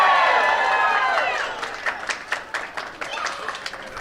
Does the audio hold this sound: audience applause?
yes